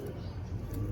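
Pigeons of a Madrasi breed cooing close by in a brief burst, a low soft throaty murmur over steady background noise.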